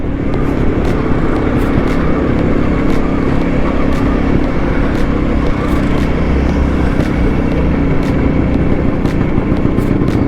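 Motorcycles, including Harley-Davidson Road Kings, riding together in a group bike rally on a Sunday morning, a steady close engine drone with road and wind rush and no talking.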